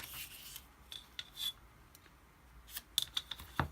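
An OLFA rotary cutter rolling through paper along a ruler on a cutting mat, heard as a few faint, short scraping strokes with quiet pauses between them.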